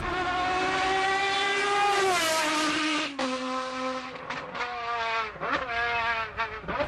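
A Ferrari F50's V12 screams at high revs on the Fiorano track, a loud, close, sustained wail with rising and falling pitch as it shifts and lifts off, heard alone without talk.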